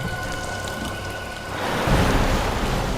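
Heavy rain pours down in a dense, steady hiss that swells louder halfway through, with a faint low rumble underneath.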